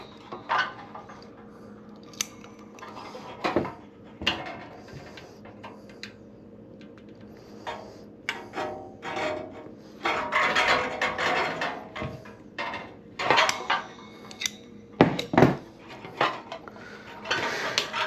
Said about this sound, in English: Second rivet. And squeeze it.